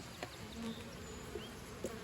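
Bees hum around an open hive requeened with a VSH queen during a checkup, a soft continuous buzz with a few individual bees droning past the microphone.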